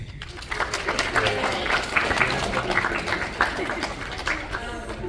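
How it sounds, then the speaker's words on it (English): At a high school volleyball banquet, players applaud their parents; a crowd's clapping swells in after a brief pause and carries on steadily, with some voices mixed in. "give your parents a round of applause"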